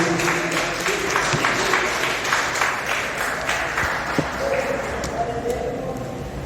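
Church congregation clapping hands together in praise, a dense continuous patter of applause filling the room with some voices mixed in throughout.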